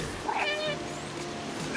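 A cat in the video game Stray gives a single clear meow up close, followed by a softer trailing meow over a steady background hum.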